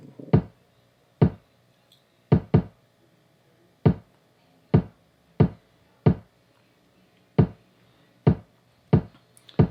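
A kick drum processed with the boost setting of a Diablo saturation plugin thumps repeatedly at irregular intervals, each hit short and punchy with a slightly fuller tail, with nothing else playing.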